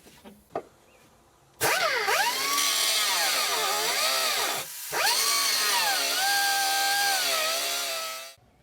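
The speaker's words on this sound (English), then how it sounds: "We're going to cut on this inside 1/4 inch and open up this little window here" A power tool cuts into the floor metal of a BMW E46 chassis, starting after a couple of faint knocks and then whining loudly and steadily with rising and falling pitch, pausing briefly before grinding on close up.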